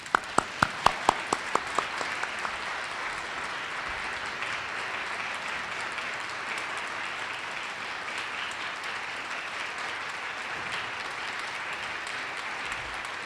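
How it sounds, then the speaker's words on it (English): Audience applause at a 50th anniversary celebration, honoring Karen Stout's 13 years of leadership: a few sharp, separate claps at the start quickly swell into a dense, sustained wash of clapping from a large crowd, steady throughout, with no talk. "So please join me in applause for the 13 years of the leadership of Karen Stout."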